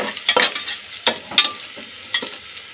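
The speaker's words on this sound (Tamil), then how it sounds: "இதெல்லாம் நல்லா ஃப்ரை ஆகணும், சூப்பராக ஆகணும்." Ingredients for chicken biryani fry in a pan, with a soft steady sizzle and several sharp scraping stir strokes of a spoon, close up and without talking.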